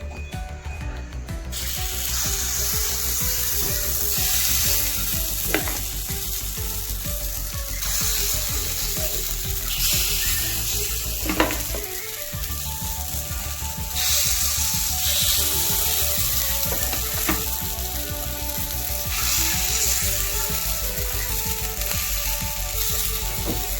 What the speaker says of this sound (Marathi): आता हे आपण काढून घेऊया आणि त्याच पात्रामध्ये आपण टोमॅटो कांदा टाकलेलं मिश्रण टाकूया.